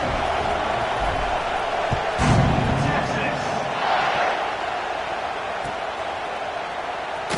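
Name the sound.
football stadium crowd buzzing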